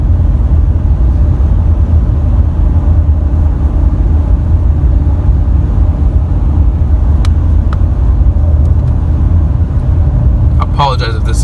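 A 2019 RAM 2500 Heavy Duty Tradesman pickup with an 8-speed transmission cruises with a loud, steady low engine and road rumble, easing down a gear as it slows, with a few faint clicks and a brief rattle near the end.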